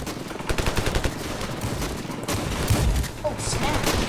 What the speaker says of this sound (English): Oops, shooting thousands of bullets.